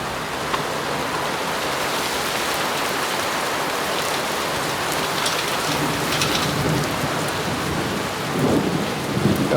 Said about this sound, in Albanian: Besoj jemi në kulmin e stuhisë tani